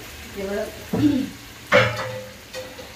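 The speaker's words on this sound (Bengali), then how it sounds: "ছোলার ডালটা দিয়ে আমি আর একটু কষিয়ে নেব।" Potatoes and boiled chana dal are sautéed in a pan, with a few distinct scraping stirs rising over a soft, continuous sizzle, close and fairly loud, with no speech.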